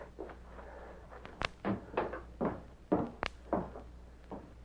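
A door opening as a sound effect in an old Lone Ranger radio drama: a series of quiet wooden knocks and creaks spread over several seconds, heard alone.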